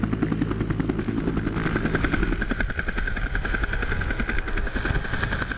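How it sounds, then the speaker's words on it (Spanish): Helicopter carrying troops to a remote coca field in Peru, its rotor chopping steadily and loudly throughout at close range with a continuous engine whine and no talk. "We flew with the troops via helicopter to the remote location where they had received a tip-off about a coca field."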